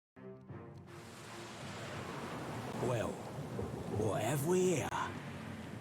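Thunderstorm at sea in the fantasy video game Pillars of Eternity 2: Deadfire, with steady rain and wind noise throughout and a deep rumbling swell; someone speaks over the storm near the middle and end.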